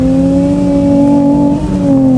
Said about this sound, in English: Hey presto, Porsche 911 through the stereo.